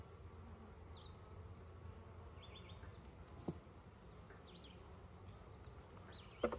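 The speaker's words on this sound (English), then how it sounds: "These bees are doing very, very good." Calm honeybees buzz as a steady, faint drone during a full beehive inspection, with a few individual bees whining past nearby and occasional soft knocks of hive parts.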